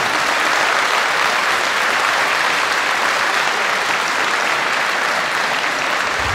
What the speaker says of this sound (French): Je vous en supplie, applaudissez-vous